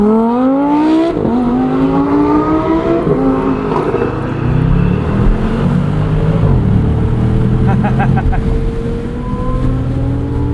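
A 2023 Bentley Continental GTC Azure V8 convertible's engine is heard from inside while driving, a loud steady drone with rising and falling rev sweeps as the car accelerates and shifts.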